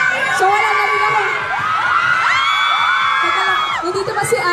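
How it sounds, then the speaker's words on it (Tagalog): A crowd at a public appearance keeps up loud, continuous shrieking and screaming, high overlapping cries rising and falling throughout, close and dense. "Bakit mas tumitili kayo?"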